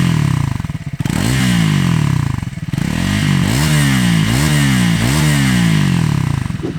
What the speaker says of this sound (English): It's got a bit of depth in terms of the exhaust note. It's not particularly loud,